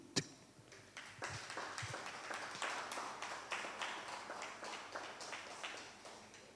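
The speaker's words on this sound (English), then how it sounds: "I want us to give a round of applause to Tracy" Audience applause for the host Tracy at a World Sickle Cell Day event in Kenya, a steady round of clapping from a crowd that swells after an initial sharp clap and holds at moderate loudness throughout.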